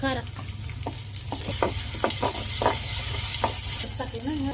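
Curry leaves and onion sizzle and crackle in hot oil for a village-style North Karnataka dish, a steady close frying hiss broken by scattered pops and stirring scrapes.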